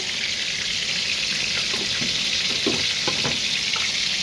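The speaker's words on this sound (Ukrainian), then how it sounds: "досмажую я вже котлетки" Steady sizzling of cutlets frying in a pan, a constant hiss with occasional soft pops and clinks, no voices.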